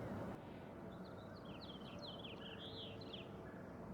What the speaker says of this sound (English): hear the birds? They think it's morning.